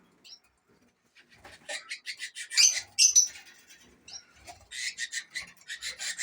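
Pet canaries chirp and twitter in short bursts in an indoor bird room, a close, fairly quiet series of trills with brief pauses between them.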